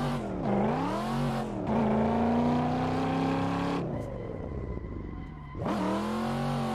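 Engine of a drifting car in the racing game Assetto Corsa, revving in long sustained whines that dip and climb again, with a brief lull before rising once more.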